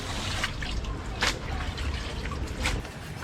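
Cleaned squid is rinsed under running water, a close, steady splashing trickle broken by a few louder gushes and drips.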